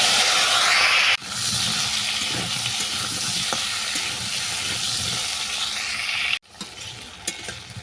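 Ridge gourd and potato pieces fry in fish oil over a tempering of bay leaf, dried chilli and five-spice, giving a loud, steady sizzle that dips sharply near the end before resuming more quietly, with no talking.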